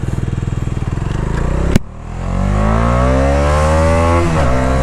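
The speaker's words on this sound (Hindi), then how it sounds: "एग्जॉस्ट साउंड बहुत बेसी है।" A Bajaj Dominar 250 (2024) motorcycle engine revs hard and accelerates up close, a bassy, throbbing exhaust rising in pitch, with a sharp shift click partway through before pulling again.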